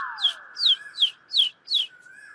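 A bird chirps five times in a quick, evenly spaced series. Each short call is fairly quiet, and a steady thin tone runs underneath.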